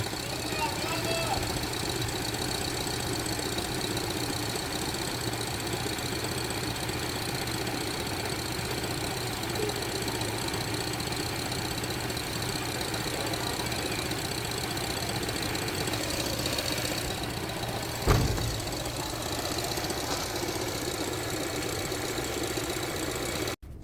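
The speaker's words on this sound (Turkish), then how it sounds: "Motordan daha önce duymadığım birazcık pata pata pata diye ses geliyor" A 2023 Chery Omoda 5 with an engine fault idles with a steady hum and a faint, continuous tapping knock running underneath, heard close throughout, with a brief clunk near the end.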